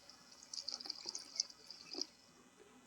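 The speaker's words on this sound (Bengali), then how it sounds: "এবার দিয়ে দিব জল" Water poured into a pan of vegetarian curry made with sponge gourd, chickpeas and peanuts, heard as a soft, close, fairly quiet trickling and splashing lasting a couple of seconds.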